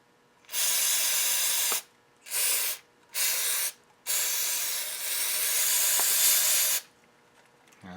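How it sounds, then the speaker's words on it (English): Mass airflow sensor cleaner hisses from an aerosol can sprayed into the sensor in four close, loud bursts: three short sprays followed by one long sustained blast, with quiet gaps between. "you just simply spray down into the sensor"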